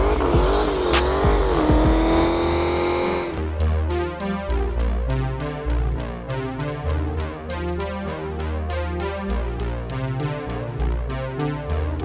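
A loud Dodge Challenger engine screams at high revs, its tires squealing and spinning under rapid rhythmic ticking, steady and close with no voices.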